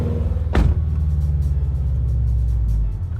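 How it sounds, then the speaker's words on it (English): A manual stick-shift car pulls away from a stop as the clutch is released and gas applied, its low engine rumble steady and close, with a brief sharp knock early on. "Now that you're moving, you can take your foot off the clutch and just give it gas."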